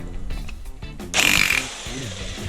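A FERM SDS hammer drill running flat out in a workshop: a loud, rough motor roar that surges sharply about halfway through and then settles to a steady drone.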